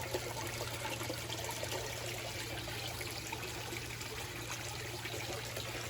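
Steady, continuous trickle of water running into an aquaponics pond as the grow beds overflow, a close, even flow with no speech over it.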